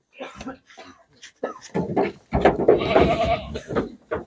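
Several short goat bleats mixed with someone talking nearby, the animal calls rising and falling over the voice.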